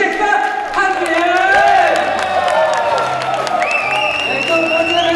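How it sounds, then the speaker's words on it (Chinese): A crowd at a Taiwanese Golden Bell Awards nominee event applauds and cheers as three variety show hosts are welcomed. The cheering stays loud and sustained throughout, with whoops and amplified stage sound rising over the clapping. "所有的三位伙伴，最热情掌声，综艺大热门，欢迎宪哥、汉典。"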